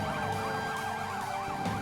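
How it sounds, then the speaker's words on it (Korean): A multipurpose ladder fire truck arrives at an emergency drill scene with its siren wailing steadily, the rising and falling tone loud and continuous over low engine rumble. "다목적 사다리차가 현장에 도착하고 있습니다"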